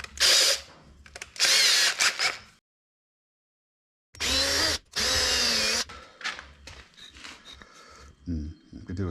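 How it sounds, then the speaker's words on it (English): A power drill whirs in several short, loud bursts, drilling holes in scrap material for a hat stand, stopping and starting, with a long silent gap and someone talking between runs. "I'm going to drill a hole in the side here and a hole in the side there"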